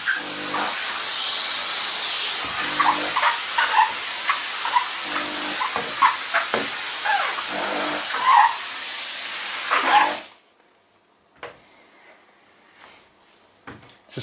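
A Dupray One Plus steam cleaner sprays natural steam onto a hairspray-coated mirror, a loud continuous hiss with intermittent sputtering bursts that cuts off abruptly after about ten seconds, leaving faint clicks and handling noises.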